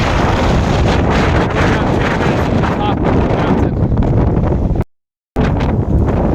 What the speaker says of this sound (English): You can see the heavy wind and fog just as we're heading on our way back.